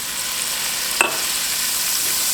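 Butter and olive oil sizzle steadily in a pan, a dense, even hiss close by, broken once by a single sharp clink of a utensil.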